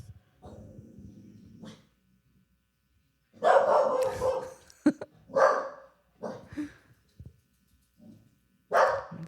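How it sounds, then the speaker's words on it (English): A dog guarding the door at home barks in loud, sharp bursts close by, between quieter stretches with a low hum and a little background noise. "There's another dog out there."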